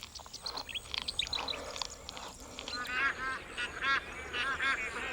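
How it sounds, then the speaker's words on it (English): A flock of bar-headed geese honks repeatedly from a short distance in Kaziranga National Park, India, layered calls over a busy outdoor background with other birds chirping. "By November, thousands of bar-headed geese have arrived to spend the winter in Kaziranga."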